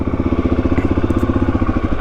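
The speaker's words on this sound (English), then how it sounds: "this is a funny motorcycle" Close up, a Suzuki DRZ400 motorcycle idles with a loud, evenly pulsing single-cylinder thump, slightly rattly and unbroken throughout.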